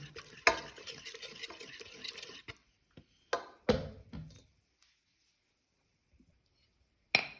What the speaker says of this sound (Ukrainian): Перемішуємо до одновідності і додаємо пшеничне борошно